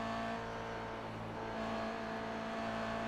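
Toyota GR86 Cup race car engine pulling hard at Zolder circuit, a steady loud harmonic drone with a slight rise in pitch as it accelerates, sustained for three seconds with no voices.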